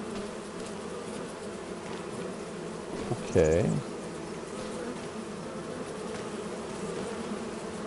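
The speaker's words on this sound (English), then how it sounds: "It sounds like bees. Oh, yeah, this is bees." Bees buzz in the farming game Farming Simulator 25, a steady insect drone over ambient game noise with one brief louder rise near the middle, and a voice says a word.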